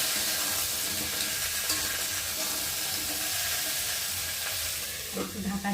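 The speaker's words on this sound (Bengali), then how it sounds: "নেড়ে দেবো।" A thin water spinach curry with green chilli fries in a pan and gets stirred, with a loud continuous hissing sizzle and a few scraping movements, plus a clunk near the end.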